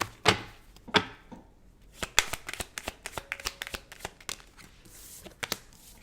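Tarot cards are shuffled up close: a series of sharp, quiet riffling slaps and flicks in an uneven rhythm, with no talking.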